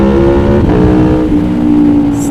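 Aprilia Tuono V4 motorcycle with an Akrapovic exhaust, engine revving loud and close in a continuous throaty roar with shifting pitch, no talk over it.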